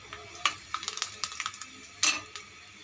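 Whole cumin seeds going into hot oil with browned onions in a kadai, giving a close, soft crackle of scattered ticks and small pops with a brief louder burst partway through.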